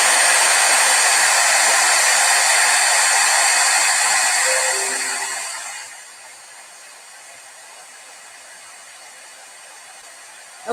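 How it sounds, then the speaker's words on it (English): A heat gun blows a loud, steady hiss for heat embossing a craft piece, running about five seconds before winding down and falling quiet, with a small click at the end. "So now I'm just going to heat and emboss this."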